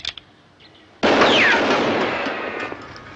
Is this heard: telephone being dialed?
no